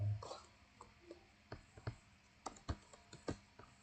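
Keys tapped on a computer keyboard while entering values into statistics software, irregular soft clicks in small clusters, close and fairly quiet with no talking.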